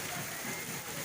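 Heavy rain falling with hail in Gujar Khan, a steady dense roar of drops and pellets beating on surfaces with no pauses.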